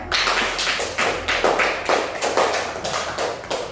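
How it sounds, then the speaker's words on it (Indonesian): A classroom of students claps in rough unison after a lesson, a loud rhythmic series of about a dozen distinct beats, evenly spaced and close, with no talk over it. "Tepuk tangan dulu semuanya."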